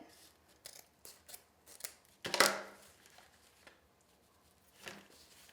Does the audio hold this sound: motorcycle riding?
no